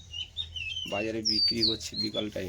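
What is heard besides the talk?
small birds calling in a tamarind tree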